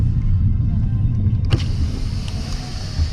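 Cars on a German road rumble past close by, a steady low engine and tyre drone with a sharper whoosh of a vehicle passing about midway.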